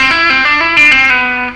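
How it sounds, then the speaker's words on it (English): A distorted electric guitar with effects slides from C down to B in a rock lead lick, one sustained, bright tone bending smoothly downward, loud and close with no talking. "And from there we're going to slide from C down to B."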